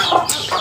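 A mother hen gives a short burst of loud, close clucks, two quick calls in under a second.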